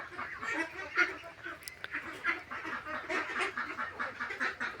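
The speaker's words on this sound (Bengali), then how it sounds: "আপনাদেরকে আমি যদি হাঁসগুলো এখন এই মুহূর্তে দেখাই তাহলে একটু দেখুন।" A flock of ducks on a duck farm quacks and honks continuously, many birds calling over one another in a busy, close chorus with no talk.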